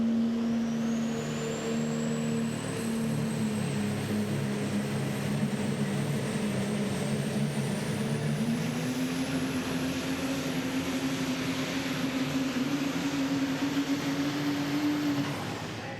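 A diesel super stock pulling truck roars at full throttle throughout, a loud continuous engine drone with a turbo whine that climbs steadily, heard from a distance across an outdoor pulling track with no talk.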